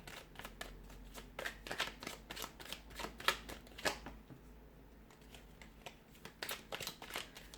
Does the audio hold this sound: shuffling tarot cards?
yes